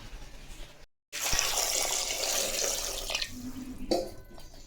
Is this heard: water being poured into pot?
yes